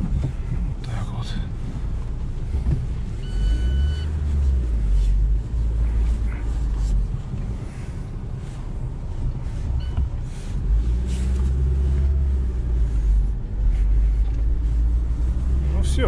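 A Lada Niva drives off-road, its engine a steady low rumble with bumps and surging pushes, heavy wind buffeting the microphone throughout, and a voice speaking at times over the noise.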